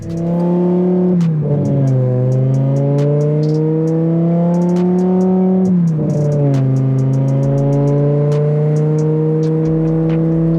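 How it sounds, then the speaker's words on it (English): A BMW E60 M5 accelerates through the gears, its engine note rising steadily and dropping at each shift, loud and close with a continuous whirring drone throughout. "let's take the car for a drive"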